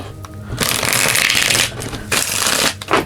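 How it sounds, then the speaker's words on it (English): A deck of tarot cards is shuffled steadily and close by, a continuous papery riffle lasting about three seconds with a brief pause near the two-second mark and no talking. "Let's do one more shuffle."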